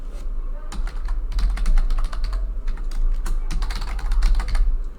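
Rapid keystrokes on a computer keyboard as an email address is typed into a Dynamics 365 CRM sales form, a close, steady run of clicks with brief pauses.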